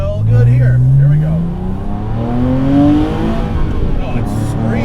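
A wide-body Porsche Cayman with a naturally aspirated 4.2L engine revs up hard and close, its rising engine note climbing in pitch through a couple of pulls.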